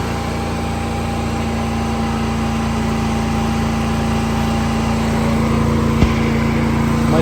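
A Harbor Freight Titanium 342 wire-feed welder running 0.030-inch wire at wire speed 22.2 gives a steady, loud, continuous buzzing hum throughout, with one brief sharp crackle near the end and no talking.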